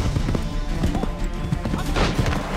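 Horse hooves from the video game Assassin's Creed III clop in a quick, uneven run of thuds, mixed with other busy game sounds and occasional sharp impacts.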